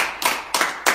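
Audience clapping in a few short bursts, three brief bright clusters of hand claps spaced across under a second, close and moderately loud.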